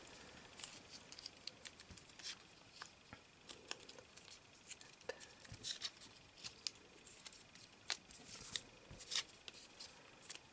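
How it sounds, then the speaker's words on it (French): Sheets of paper being folded and creased by hand in a quiet room, a steady run of soft crinkles, rubs and sharp little snaps with no talking. "c'est le dernier papier que j'ai à plier"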